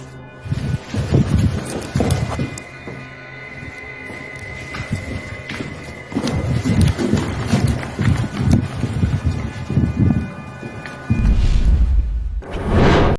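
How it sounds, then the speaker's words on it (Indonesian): Heavy footsteps repeatedly approaching, heard as loud, close, rhythmic thudding steps that continue throughout with short pauses, in a tale of mysterious happenings. "makin lama suara langkah kaki itu berulang kali terdengar seperti mau menghampiri mereka guys"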